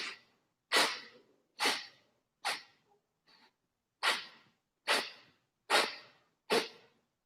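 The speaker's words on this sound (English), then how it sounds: "And then for 10, small sniffs." A series of short, sharp sniffs through the nose, about eight in a steady rhythm with a brief pause midway, close and clear.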